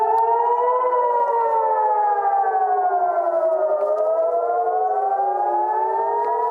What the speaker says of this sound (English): sirens sounding in Jerusalem